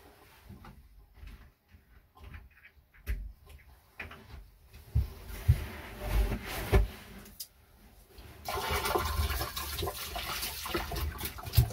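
Marine toilet aboard a boat being hand-pumped with water while the head is winterized, giving irregular sloshing and gurgling strokes that grow into a louder, steady rush of water near the end.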